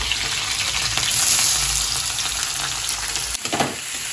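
Onion frying in hot oil with ginger, cumin and chilli gives a steady, close, bubbling sizzle that runs throughout, with a brief utensil clatter near the end.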